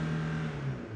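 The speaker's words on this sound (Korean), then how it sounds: "엔진 소리 진짜 이 주행거리에 걸맞게 엔진 소리 하나 기가 막히고요." Chevrolet Captiva (Winstorm) engine with about 60,000 km on it, running steadily with a low, even hum and faint whir throughout, close and continuous with no voices.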